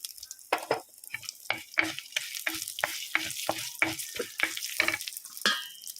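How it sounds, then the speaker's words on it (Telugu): Tempering seeds crackle in hot oil for a mint chutney, a dense close sizzle punctuated by a quick, uneven series of spoon strikes and scrapes on the pan, with no talking. "పోపు గింజలు కూడా వేస్తున్నాం"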